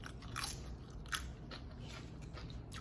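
Someone bites and chews while tasting homemade guacamole. A few soft, close crunches sit over a steady background hiss, and nobody speaks.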